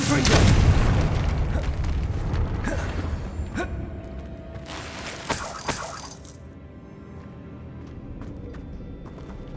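In the video game Hogwarts Legacy, a Confringo fire spell goes off as a loud booming explosion with crackling debris. The blast fades into a lingering rumble and scattered clatter, followed by quieter ambience.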